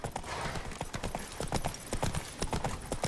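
Geralt's horse Roach gallops in The Witcher 3, a fast, even clip-clop of hooves close by that continues without break throughout.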